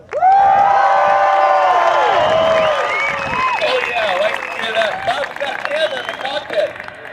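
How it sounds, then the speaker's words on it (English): An air show crowd cheers, whoops and applauds loudly for an aerobatic pilot, with a strong opening surge of shouts that settles into continued clapping and scattered whistles. "If you want to hear a crowd that is amped up about seeing you fly, get ready for this."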